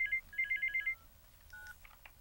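A mobile phone rings at a modest level in an indoor scene, a repeated electronic chirping tone pattern followed by a brief melodic phrase, with no talk.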